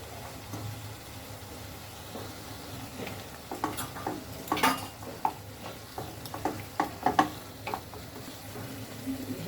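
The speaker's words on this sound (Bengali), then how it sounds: "মশলাটা ভালো করে কষিয়ে নিতে হবে" Spice paste frying with onion and tomato for a tilapia fish kalia, with a faint steady sizzle broken by scattered scraping and stirring clicks of a spatula against the pan, no voices.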